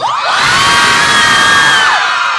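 A mall crowd of fans, many of them young, screams and cheers loudly and continuously with high-pitched shrieks and whoops, sustained close and full throughout with no talk.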